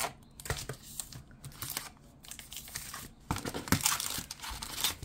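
Foil-wrapped 2023 Topps Heritage baseball card packs are pulled from a freshly opened hobby box, giving close, busy crinkling and rustling with sharp crackles that grow louder toward the end.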